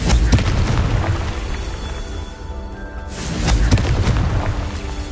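Confringo spell explosions in Hogwarts Legacy: loud, deep booming blasts that fill the space, two heavy bursts with a brief lull between, rumbling and crackling continuously at close range.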